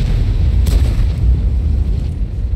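A tank cannon in World of Tanks booms as a deep, loud, low rumble that persists throughout, with a sharper crack briefly standing out near the start.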